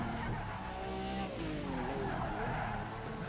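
An Aston Martin V12 racing in Project Cars 3 produces a steady, loud engine drone with shifting pitch as it accelerates and changes gear, with faint tire squeal running throughout.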